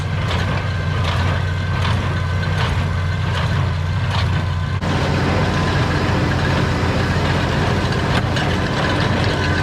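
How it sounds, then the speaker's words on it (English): A tractor runs steadily in high gear while pulling a hay baler during the first baling of the season, with a continuous loud engine drone and mechanical clatter throughout, close by and with no voices. "He's going to bale pretty fast here."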